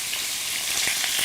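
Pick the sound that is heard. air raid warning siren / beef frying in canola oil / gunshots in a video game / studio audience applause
beef frying in canola oil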